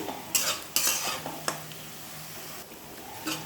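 Potato pieces deep-fry in plenty of oil, hissing steadily while a utensil scrapes and clatters against the pan in a few sharp strokes near the start, then the frying settles to a softer, even sizzle.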